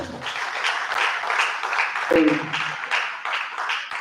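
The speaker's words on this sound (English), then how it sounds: "Please, a round of applause." Applause from an audience at a research publication ethics lecture, steady and moderately loud, with a brief louder burst partway through.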